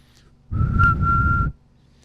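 A single steady whistled tone imitating an old telephone switchboard signal, like the tone from a cereal-box toy whistle, held for about a second over a low background rumble.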